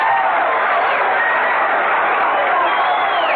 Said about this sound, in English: Here's the windup, the crowd cheering.